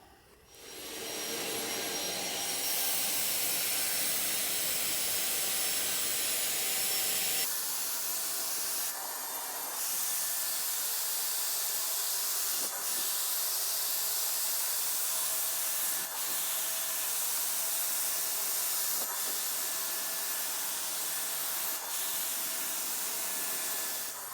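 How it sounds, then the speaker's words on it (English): An Earlex 6700 paint sprayer hisses steadily and loudly while spraying the underside of a wooden table, a continuous airy roar with a few brief shifts in pitch as the trigger is eased and pulled again. "So I'm going to continue spraying the bottom of this table."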